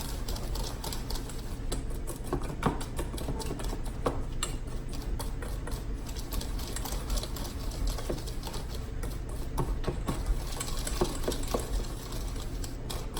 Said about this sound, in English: So then you just want to take your whisk and try and blend those all together as best you can.